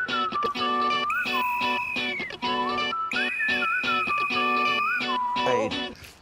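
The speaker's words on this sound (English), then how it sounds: "Well, I have my whistle." A shrill whistle sounds in long sustained blasts with wavering pitch, loud and close, with brief gaps between blows.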